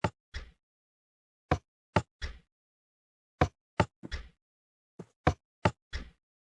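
Short clicking knocks from a disabled Minecraft Bedrock crafter, a block game sound, come in small irregular clusters of two or three sharp taps separated by silence, clear and close with no talk.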